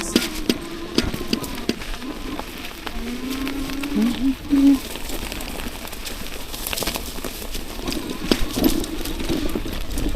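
A Viaggio V6 scooter ridden in first gear on throttle alone gives a low motor drone that swells briefly in pitch midway, carried under steady rushing wind and road noise.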